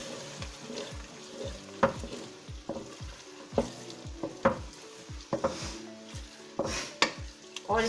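Beef tikka is stirred in a karahi over low heat, a gentle sizzle beneath a regular rhythm of spoon scrapes and knocks against the metal pan, quiet and close, no talk.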